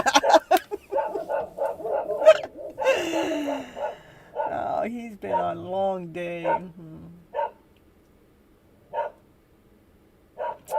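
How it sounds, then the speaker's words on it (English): Several dogs bark in short separate bursts, loud at first beneath someone speaking, then scattered and fainter toward the end. "there goes the dogs"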